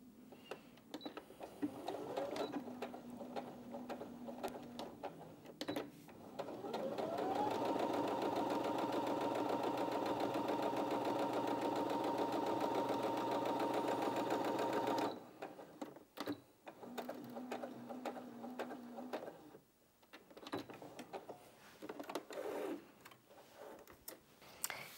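A Brother Innov-is 15 sewing machine runs a straight stitch on thicker-than-cotton fabric: a steady motor whir and rapid needle chatter in bursts, a short run, then a longer sustained faster stretch, then further short runs, close and alone.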